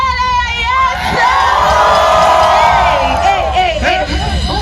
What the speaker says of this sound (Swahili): Wapi kelele ya Yesu?